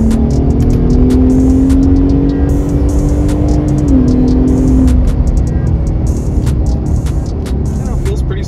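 A Ford Raptor and a Ram TRX pickup at a race track, a loud steady engine drone rising in pitch under acceleration, with faint voices and a brief tire squeal.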